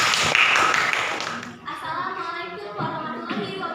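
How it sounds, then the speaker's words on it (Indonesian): Applause from a classroom audience for a discussion group, a dense patter of clapping that fades after a second and a half as a speaker begins talking. "Beri aplaus untuk kelompok 1."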